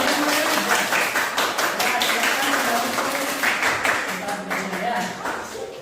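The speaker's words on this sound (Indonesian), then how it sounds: "Sekarang sebelum kembali ke tempatnya silakan berikan tepuk tangan dulu lagi sekali ya." Children in a classroom clap their hands together in a ragged, rhythmic burst of close claps, while voices talk over it throughout.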